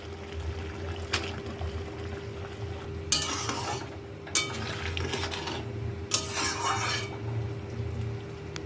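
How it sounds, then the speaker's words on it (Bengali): Paneer cubes go into a boiling no-onion, no-garlic kadai paneer gravy. A low simmer runs throughout, broken by several short bursts of scraping and splashing stirs, with a few faint clinks. "গ্রেভি ফুটে উঠলে পনিরগুলো অ্যাড করে দেবো।"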